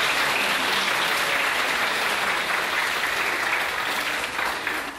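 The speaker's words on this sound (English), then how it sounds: "So a big round of applause for them" Sustained audience applause for students at a school performance evening, a dense, even roar of many people clapping at close range, continuous throughout with no talk over it.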